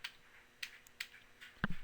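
A few faint, scattered clicks of computer keyboard keys being typed, sparse and quiet, ending with a slightly firmer keystroke.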